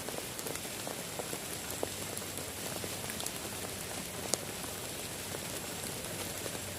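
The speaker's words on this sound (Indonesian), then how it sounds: "Memang hujan, gerimis nih." Light drizzle falls at a campsite as a steady, soft hiss of rain with scattered nearer drips and ticks standing out now and then. No voices are heard.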